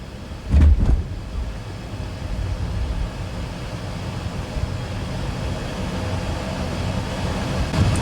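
A Mercedes EQE 500 electric sedan accelerating on an open road, heard as a steady, smooth drone of road and motor noise with a brief louder bump near the start, no voices.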